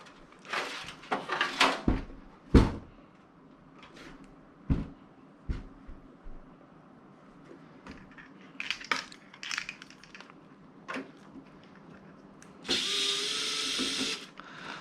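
A PC case's back panel being opened during a computer build, a series of scattered plastic and metal clicks, taps and knocks, ending with a longer scraping slide of the panel.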